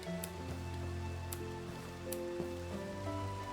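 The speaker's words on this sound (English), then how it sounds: "I hear it's starting to rain" Rain falls in the Minecraft video game, a steady soft hiss of patter beneath looping in-game music tones, with a few sharp clicks scattered throughout.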